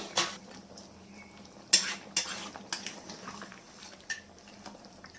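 Metal lid set onto a pot of simmering mutton and potato curry: a handful of sharp, close clinks and clatters spaced over a few seconds against a quiet background.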